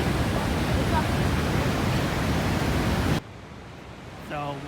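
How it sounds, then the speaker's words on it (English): Niagara Falls waterfall roaring and splashing as a loud, steady broadband rush close by, cutting off abruptly to a quieter background with a brief voice near the end. "I'm looking but the splash of the waterfall gets to me."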